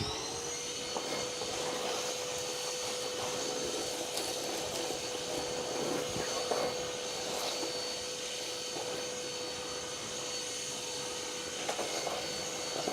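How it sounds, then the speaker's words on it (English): A vacuum cleaner runs continuously with a steady whine while it works along the body of a Charger crew cab project car in a shop, with scattered scraping and knocks over the drone, no talking. "Let me vacuum this side now, dudes, and see what we got."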